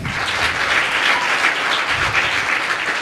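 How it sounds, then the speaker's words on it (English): Hearty audience applause at a school life-skills event: many hands clapping in a dense, loud, continuous wash from start to finish. "Please give a huge round of applause."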